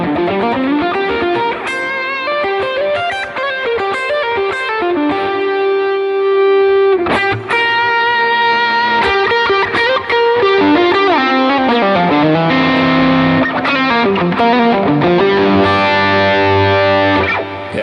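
Stratocaster electric guitar playing a distorted lead tone through a Line 6 Helix, with sustained bent notes and fast melodic runs that stay loud and steady throughout, with no talking.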